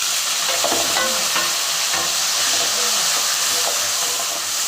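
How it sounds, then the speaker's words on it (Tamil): Tomato sautés in a pan for chicken gravy, giving a loud, continuous hiss and sizzle with occasional stirring scrapes, heard close up without speech. "நல்லா வதக்கிடலாம் நல்லா வதங்கிட்டு"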